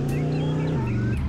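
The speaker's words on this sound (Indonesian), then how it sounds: "Ternyata naik mobil terbang bisa sampai ruang bawah tanah, guys." Flying car from a video game driving through an underground basement, a steady loud engine drone that holds one pitch and then steps down lower near the end, with no talk over it.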